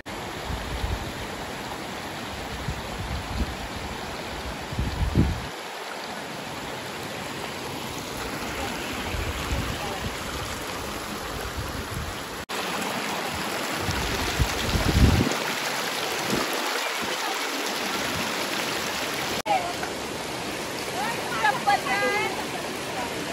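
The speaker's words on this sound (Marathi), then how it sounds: "डोंगराचा पाणी." Mountain water rushes steadily as a broad, even wash near a farmhouse on a family trip, with no clear breaks across the clip.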